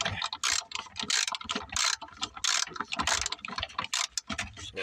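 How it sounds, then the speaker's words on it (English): A 5/32 socket ratchet backing out a tail light screw on a 2008 Dodge Charger RT, giving loud, close, rapid clicking bursts that start and stop repeatedly with brief pauses, no voice over it. "Just take and screw it out."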